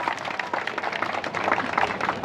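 Applause welcoming Nitesh Didi at a gathering, a steady moderate patter of many hands clapping together, with no voices over it.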